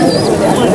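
Pigeons coo at a busy pigeon market, a short soft cooing phrase close by amid faint crowd murmur in the background.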